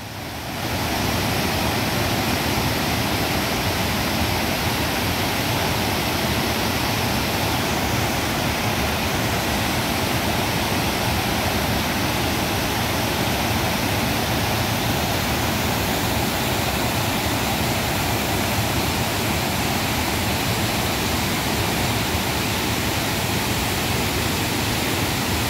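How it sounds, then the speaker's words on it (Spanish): Rushing river water close at hand during a flood, a steady, loud broadband roar that holds unbroken throughout with no voices. "Ya estoy súper cerquita yo del río."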